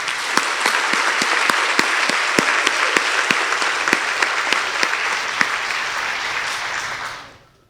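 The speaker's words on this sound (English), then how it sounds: "can we please give a final warm round of applause for all those who have just been awarded tonight" A crowd gives a warm round of applause for award winners at an annual science research symposium. The clapping is full and continuous with a few sharp nearby claps, then fades out quickly at the end.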